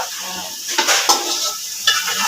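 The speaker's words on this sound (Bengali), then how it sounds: "আলুটা ফ্রাই হয়ে গেছে" Potato pieces fry in hot oil for a biryani, a continuous bright sizzle up close, with a few clinks of a spatula stirring against the pan.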